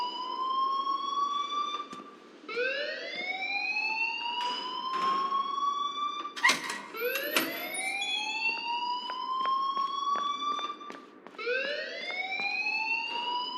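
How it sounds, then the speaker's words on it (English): A fire alarm in the video game Life Is Strange sounds continuously in loud, rising electronic whoops that repeat steadily, with occasional sharp clicks and bursts over the top and no talking. "please turn off that alarm since that's your job."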